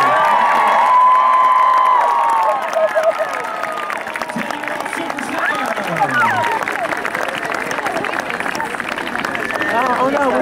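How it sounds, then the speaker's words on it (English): A crowd at the Magic Kingdom Christmas Day parade taping in 2010 cheers and applauds Jackie Evancho. Steady, busy crowd noise and voices follow a brief musical tone at the start. "All right, everybody, how about a nice round of applause?"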